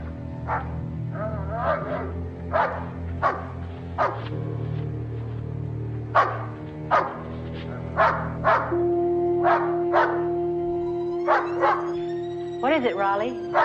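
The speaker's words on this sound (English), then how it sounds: "she was awakened from a sound sleep by the barking of her dog, Raleigh." A dog barks in a house shortly after midnight, a series of sharp, loud barks in an irregular rhythm over a steady low hum, with a tonal sound rising near the end.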